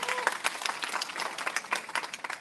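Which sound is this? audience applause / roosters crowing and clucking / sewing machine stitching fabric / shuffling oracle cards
audience applause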